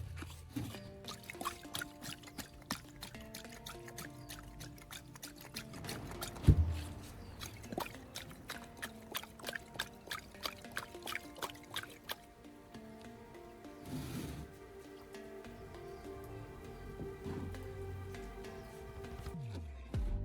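Liquid being drained out of a car battery after soaking in Coca-Cola, with an uneven trickling and dribbling pour, splashy gurgles and a sharp knock partway through, fairly quiet and close.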